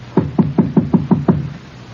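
Six firm knocks land on a door in an even, quick rhythm, close and loud, with nothing else heard around them.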